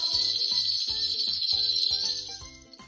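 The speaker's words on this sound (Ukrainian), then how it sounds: "А маленькі бубонці грають ось так." Small jingle bells shaken rhythmically by hand produce a steady bright shimmer, with distinct pitched bell notes, up close during a kindergarten music lesson.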